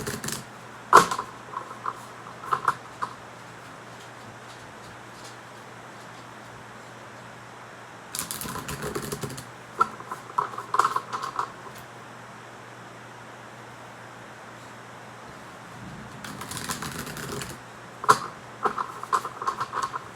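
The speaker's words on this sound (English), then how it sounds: "let me start to shuffle the decks and get the energy settled" Tarot card decks are shuffled in three separate bursts of soft papery riffling and tapping, close and fairly quiet, separated by stretches of near silence with faint background hiss.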